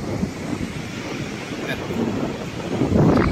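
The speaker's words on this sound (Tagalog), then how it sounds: "Malakas ang alon." Broad, steady roar of strong surf with waves washing in, heard from a boat travelling from Tabon Port to Boracay, swelling louder near the end, mixed with gusty wind noise on the microphone.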